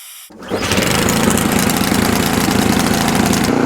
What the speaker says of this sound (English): All the bolts are tight, so if you're ready, I'm ready. Let's go fire it up.